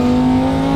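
A rear-wheel-drive, twin-turbo manual Lamborghini of 1,000 horsepower, rebuilt after being wrecked, holds a loud, close engine note in a brief, steady burst of strong rumble.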